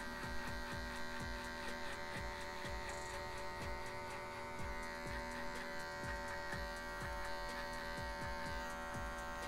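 Electric hair clipper running with no guard, buzzing close and steady through a fade haircut, with a constant motor whine and repeated soft strokes as the blade passes over the hair.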